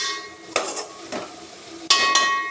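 Turmeric lightly frying in a pan for a potato and fenugreek curry, with a few stirring scrapes and utensil clinks over a faint steady sizzle, no voices.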